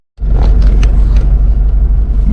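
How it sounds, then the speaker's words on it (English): Cars speed past on a road in northern Benin, a loud close roaring rumble that swells in abruptly and holds heavy and continuous with no voices. "right now cars are passing, so they're passing as long as they go really fast"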